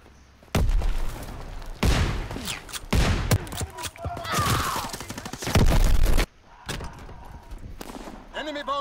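Bomb blasts rip through the Ardennes Forest map in a Call of Duty WWII team deathmatch. Several loud, heavy bursts of explosion and gunfire come in separate waves with short gaps, and a voice speaks amid the noise.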